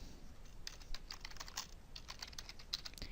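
Quick, light keystrokes on a computer keyboard as a new folder name is typed, a soft run of close clicks with uneven rhythm over a faint background hiss.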